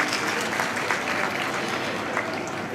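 An audience at a Teej-Pola festival celebration at a chief minister's residence claps together in a steady, fairly faint patter of applause that holds throughout without breaks.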